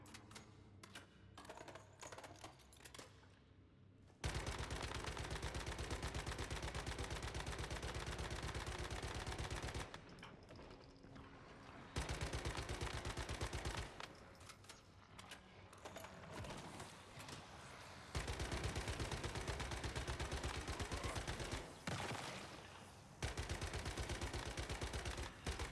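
Gunfire in the video game Once Human comes in several long sustained automatic bursts, loud and close, broken by gaps with scattered single shots and game ambience.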